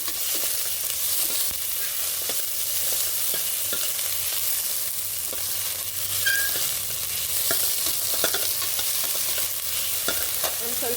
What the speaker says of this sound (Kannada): ಇದಾದಮೇಲೆ ಆನಿಯನ್ನ ಹಾಕ್ಕೊತೀನಿ. ಚೆನ್ನಾಗಿ ಫ್ರೈ ಮಾಡ್ಕೊಂಡಿದ್ದೀನಿ.